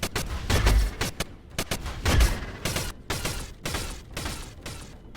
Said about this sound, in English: I am actually somewhat disappointed with these plasma cannons.